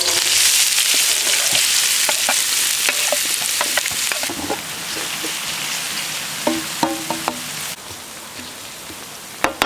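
Onion frying in a pan: a loud, dense hiss that eases slightly partway through, with scattered spatula taps and clicks from stirring and no voices.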